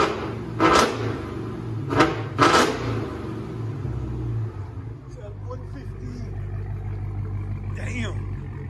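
A Dodge Challenger Hellcat with a 6.2L supercharged Hemi V8 and modified exhaust barks out three sharp revs, then settles into a low rumbling idle, with people talking nearby.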